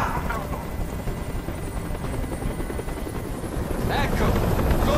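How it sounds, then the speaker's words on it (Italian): A video game helicopter hovers with a loud, steady rotor drone that fills the whole scene, a constant heavy whir holding at one level. "Questo rumore mi sta facendo impazzire. Digli di mandare via quell'elicottero."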